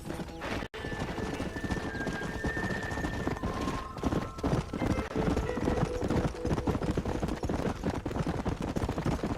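Horse hooves clip-clop steadily in the Red Dead Redemption video game while riding, a continuous close trot broken once by a whinny.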